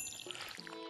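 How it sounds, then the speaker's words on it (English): Watering crops with a watering can in Stardew Valley, a soft, steady pouring splash that runs briefly and faintly through the whole moment. "Let's water the beans by all means"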